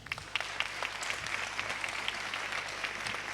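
An audience at a Make Health Latam health innovation event in Chile applauds a presenting team, a moderate, steady patter of many hands clapping for a few seconds, with a low hum underneath.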